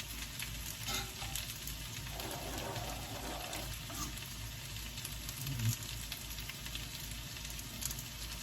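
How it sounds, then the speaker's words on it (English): Mushrooms sautéing in a pan for a mushroom and spinach frittata, a steady soft sizzle and crackle running throughout with faint stirring clinks. "And we'll start sauteing some mushrooms."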